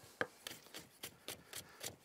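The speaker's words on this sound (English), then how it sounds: "roughly chopping these guys up" Knife roughly chopping cucumber on a board for a lamb tzatziki, giving about eight quiet, evenly spaced crisp chops at close range with no talking.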